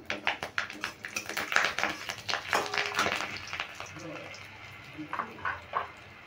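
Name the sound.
radhuni spice and green chili tempering sizzling in hot oil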